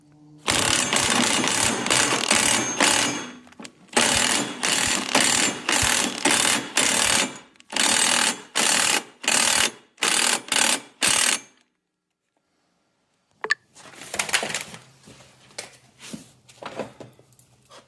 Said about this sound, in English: I'm just hitting it with the impact.